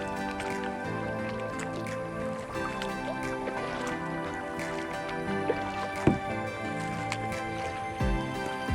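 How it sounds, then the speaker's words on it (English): Kayak paddle strokes dipping into calm, sheltered water on a windless stretch near Blackwell Island, Idaho, with a faint current; soft, irregular splashes and drips sound close and gentle, with one sharper knock near the end. "But now it's just easy paddling."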